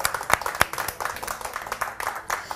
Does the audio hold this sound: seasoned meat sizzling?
no